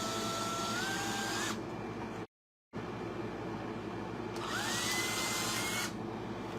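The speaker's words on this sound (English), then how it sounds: "So why am I drilling this hole out?" A small drill with a 1/16 inch bit whines in two bursts while drilling a hood hinge hole on a Peterbilt 389 model truck, its pitch rising as the bit spins up, with a brief silent gap and no talking.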